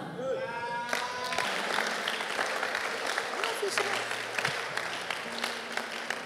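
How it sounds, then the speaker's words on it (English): Hands clap in a steady run of sharp claps during a loud Christian prayer, heard under a continuous praying voice in a reverberant space. "As I clap my hands."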